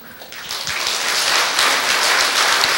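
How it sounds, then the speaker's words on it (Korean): An audience at a Buddhist military chaplains' anniversary ceremony breaks into applause during an award presentation, clapping swelling quickly from a few hands into a loud, close, sustained burst. "큰 박수 다시 한번 부탁드립니다"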